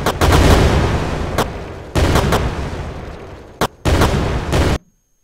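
Continuous loud weapon fire from a player's ship in a side-scrolling shoot 'em up game, rapid repeated shots in long bursts with brief breaks, ending abruptly into silence.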